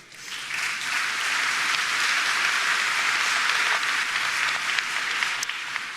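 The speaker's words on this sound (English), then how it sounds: "Go on, give Nigel a round of applause." A conference audience at NI Connect applauds, dense even clapping swelling quickly and holding steady and loud for several seconds before easing slightly at the close.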